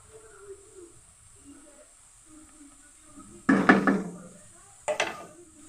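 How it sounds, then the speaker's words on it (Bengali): Sugar is spooned into a pan of carrot halwa as two short gritty rustling bursts, the second briefer, after a near-silent kitchen pause. "এখন আমি চিনি দিয়ে নিব চিনি"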